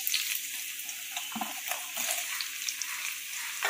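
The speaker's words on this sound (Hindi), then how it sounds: "और इसे हमने ट्रांसलूसेंट होने तक फ्राई करना है" Onions frying in oil in a pot, a steady broadband sizzle with a few soft stirring scrapes, close and continuous with no talking.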